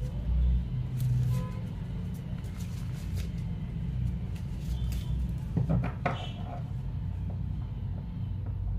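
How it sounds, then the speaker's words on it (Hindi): Steady road traffic rumbles in the background, a continuous low wash of passing cars with a few brief louder vehicle sounds, distant and fairly even throughout. "ये ट्रैफिक नॉइज बैकग्राउंड का थोड़ा इशू है"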